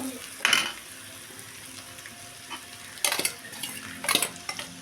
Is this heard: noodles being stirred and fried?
yes